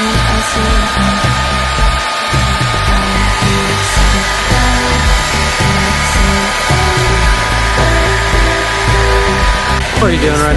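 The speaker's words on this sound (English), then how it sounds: "Blow drying my bucktail like everybody does" Hair dryer blow drying dyed bucktail, a loud steady close whooshing roar with a constant motor hum running for about ten seconds without a break.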